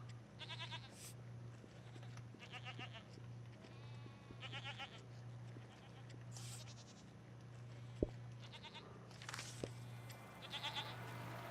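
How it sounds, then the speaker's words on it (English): Goats bleat repeatedly in the video game Seasons: A Letter to the Future, on a farm road, several bleats spread across the stretch over a steady low hum and soft game sounds, with a couple of sharp clicks. "Forgot there was goats here."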